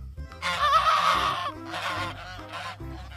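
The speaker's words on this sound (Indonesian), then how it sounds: "Ini namanya bebek angsa." A goose honks in a long, loud, nasal call followed by shorter honks, close and clear with little else around it.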